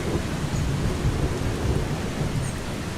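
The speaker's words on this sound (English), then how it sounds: "It's just a remarkably loud storm." A loud thunderstorm in the video game Eastshade, with steady heavy rain and a deep continuous rumble of thunder, sounding dense and close with no voices.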